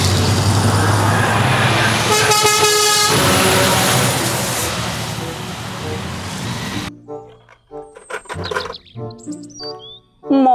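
A toy container truck sounds its electronic horn with bright, honking toots over a noisy, whirring background, then the toy plays shorter chirpy electronic tones after a sudden drop in noise.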